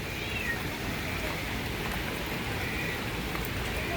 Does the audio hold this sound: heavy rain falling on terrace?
yes